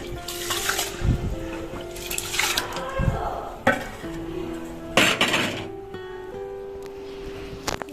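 Uncooked rice tipped into a pot of water on the stove, with close clinks and knocks of a metal pot and utensil over soft watery sloshing and a steady background hum.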